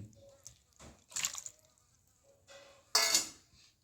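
Washed chicken pieces go into a pot of spice paste for handi chicken, with a few wet clinks, clatters and soft splatters of meat and metal utensils in brief bursts.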